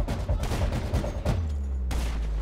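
Gunshots in GTA Online freemode, a rapid run of heavy close shots with booming low thuds, ending in a sustained low rumble, loud and alone.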